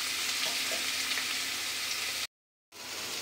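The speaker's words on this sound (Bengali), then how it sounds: "তা এখন কড়াইয়ে বসিয়ে দিয়েছি, এদিকে এই যে উচ্ছে ভাজা দিচ্ছি" Bitter gourd and vegetables fry in a kadai with a steady, close oily sizzle. The sound cuts out briefly near the end, then resumes.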